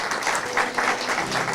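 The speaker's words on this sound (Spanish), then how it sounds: "Dele un aplauso al Señor si lo está entendiendo" A church congregation claps together in short, brisk applause, a dense close-sounding patter of hands with no clear talk over it.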